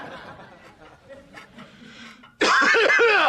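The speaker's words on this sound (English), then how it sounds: "Maybe we should cough, and then they'll realize we're actually awake and get the hint." A person in a sitcom scene lets out a deliberate, loud cough, with a short burst of throat-clearing sounds after a stretch of quiet background noise.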